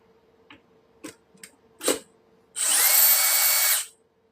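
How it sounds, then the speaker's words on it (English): A few faint clicks and knocks lead into a loud, high-pitched whine as a power drill runs steadily for just over a second, then cuts off and falls quiet. "This is an amazing drill."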